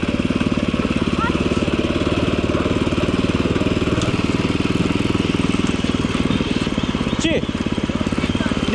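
A walking tractor (motocultor) engine left idling, a loud steady rapid chugging putter that runs continuously, with faint background sounds over it.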